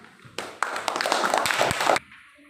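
A classroom of pupils gives a short burst of hand clapping during a primary maths lesson, dense and moderately loud for about a second and a half, then stopping abruptly.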